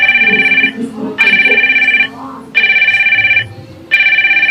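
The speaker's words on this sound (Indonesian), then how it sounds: "Ada telepon nih guys, sudah kita terima." A telephone rings in four loud, evenly spaced electronic trills, each lasting about a second, with quiet background murmur between the rings.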